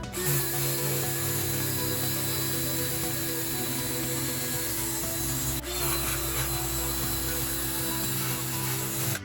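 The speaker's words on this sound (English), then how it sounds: "I'm gonna scrape over it from 4 different directions" An 80-grit abrasive scrapes paint off a steel suspension bushing housing, giving a loud, continuous, harsh grinding noise with a steady underlying hum. One sharp burst cuts through midway, and no one speaks.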